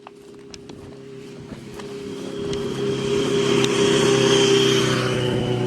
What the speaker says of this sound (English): It's a loud bike, alright?